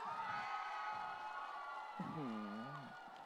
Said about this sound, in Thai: ขอเสียงกองเชียร์ดร.